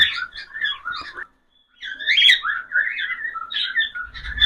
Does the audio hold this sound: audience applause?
no